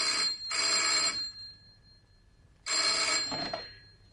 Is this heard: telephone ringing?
yes